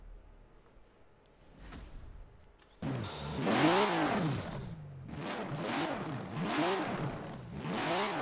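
A drift car engine with a sequential gearbox and very light flywheel revs hard in Forza Horizon 4, rising and falling in quick repeated surges after a quiet start, loud and close.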